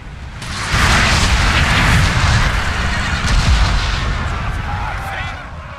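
Cannon artillery fires in Napoleon: Total War during a France 1805 campaign battle: a heavy, continuous barrage of booming shots rolling together, loud and close, fading slightly toward the end.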